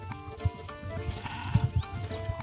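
A flock of sheep bleating, several overlapping calls near and farther off, with intermittent bumps and shuffling.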